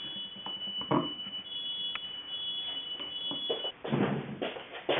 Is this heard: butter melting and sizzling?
no